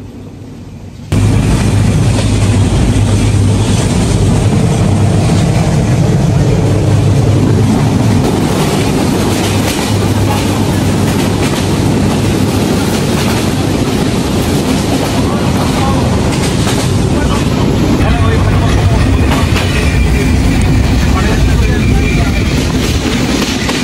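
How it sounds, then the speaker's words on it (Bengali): Dhumketu Express train running toward Rajshahi station in Bangladesh, a loud, close, continuous rumble that holds steady throughout after a quieter opening second. "স্টেশনের দিকে যাচ্ছে ট্রেনটা এখন"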